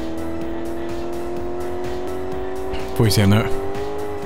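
A Nissan GT-R on a test drive in the video game Car Mechanic Simulator 2018 holds a steady, droning engine note, then gives a short, loud tire screech about three seconds in while someone talks over it.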